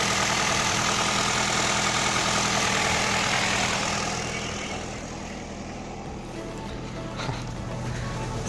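An Opel Astra F engine idles steadily and close by, a continuous broadband rumble that eases slightly partway through, with no talking.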